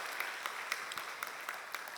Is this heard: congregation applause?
yes